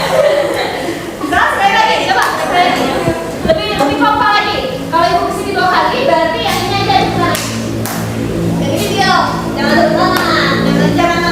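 A classroom of children claps hands in bursts while a teacher talks over them, with scattered children's voices and light thumps in a lively room.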